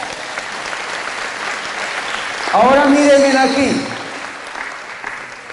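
Congregation applause during a Catholic priest's talk on spiritual gifts, a continuous wash of clapping from a crowd that swells briefly while someone speaks a short line over it, then fades.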